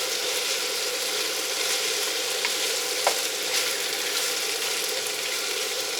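Chicken sears in a hot pan with a steady, dense sizzle and fine crackle, fairly close and even throughout, with a couple of small pops and no talking.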